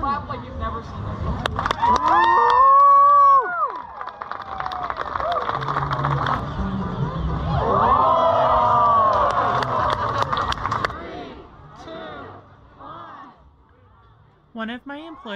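A street-performance crowd in Key West claps and cheers in bursts, with whistles and shouts rising above the clapping. The noise then fades into scattered voices and a few last claps.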